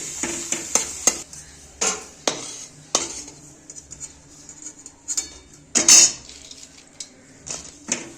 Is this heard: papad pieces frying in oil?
yes